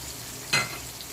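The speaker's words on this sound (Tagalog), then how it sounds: "Sasangkutsa natin siya dito sa sibuyas at saka bawang." Pork ribs are tossed into a pan with onion and garlic for caldereta, making a single brief sizzling stir over a steady low frying hiss, close and with no talking.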